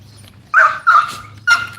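Three sharp, loud dog barks close by, coming in quick succession against a quiet low hum.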